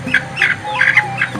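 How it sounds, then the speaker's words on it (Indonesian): Chickens at a poultry farm squawking and clucking close by, several short bright calls in quick succession with no talk. "Ayam juga nih"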